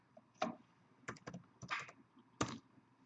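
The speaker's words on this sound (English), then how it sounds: "Let's type in live." Quick bursts of keystrokes on a computer keyboard, four or five short clusters of clicky taps with brief pauses between, close and quiet in a still room.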